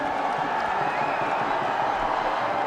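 Cricket crowd at a Test match in Dharamshala cheering as Ravi Ashwin walks out to bat in his 100th Test, a steady, broad roar of distant spectators that holds throughout without clear peaks.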